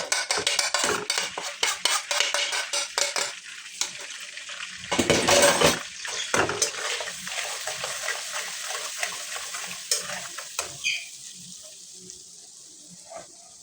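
Red chillies, ground coriander, turmeric and garam masala frying in hot oil left from frying trotters, stirred hard with a metal spoon against the pot: loud repeated scraping and clanking over a sizzling hiss, easing off toward the end.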